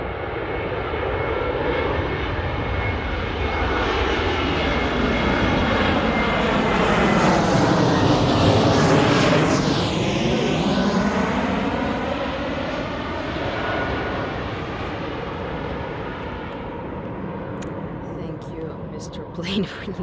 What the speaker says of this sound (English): plane coming. Oh, that's awesome when it's just coming out of the hill.